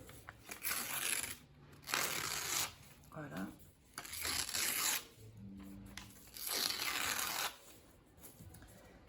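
Paper being cut along its edge and torn for a ritual, dry rustling and ripping sounds coming in several bursts, close up and fairly soft, with a voice speaking briefly between them.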